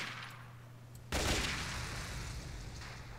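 Red barrels blow up in the video game PRISM: Guard Shield: one sudden, loud, broadband blast that cuts in partway through, then a rumbling roar that lingers over steady game background noise.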